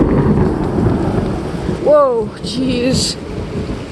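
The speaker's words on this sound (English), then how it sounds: "Rain's starting to come in." During a 2019 hurricane, heavy rain pours steadily while a loud thunder rumble rolls through, and a startled voice briefly exclaims over the downpour.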